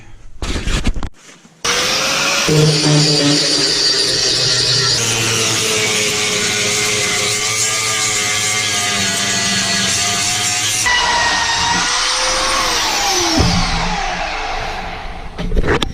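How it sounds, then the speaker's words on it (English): A power grinder smoothing a custom dagger blade: a loud, sustained abrasive whine and rasp running almost without break, with short gaps and rubbing scrapes at the start and end, no talk. "That's what we'll be grinding smooth."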